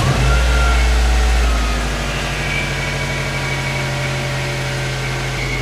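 A car engine, just refitted with a new idler pulley, fires up loud with a brief high rev, then settles after about two seconds into a steady, close, rumbling idle that still carries an unwanted noise.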